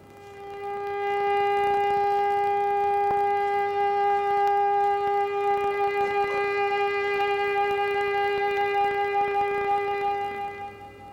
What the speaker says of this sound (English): the wailing sounds, the sad sounds of sirens across the country